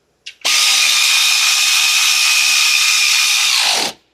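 A power tool spins up and drives a wheel bolt on a 2023 Genesis GV70, one loud sustained whirring burst of about three seconds that starts abruptly and winds down, close by with no talking.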